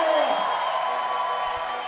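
Loud crowd noise fills an indoor bouldering competition final, a dense sustained roar of cheering and voices with no clear breaks.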